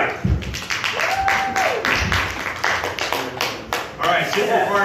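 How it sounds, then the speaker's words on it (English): A comedy club audience claps and applauds between comics, steady dense clapping throughout, with a host's voice calling over it. "keep those applause going for your next comic, OG Lee."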